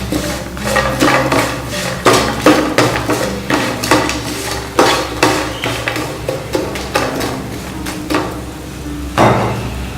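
Fried chicken pieces being tossed and mixed in a bowl with a utensil, a steady run of loud clattering scrapes and knocks against the bowl, near and continuous without talk.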